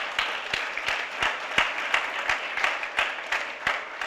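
An audience at an NAACP One Million Jobs Campaign event breaks into a steady round of applause, many hands clapping in a dense, even patter that stays loud and continuous throughout, with no voices over it.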